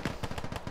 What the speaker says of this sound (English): I can't hear you over the gunfire.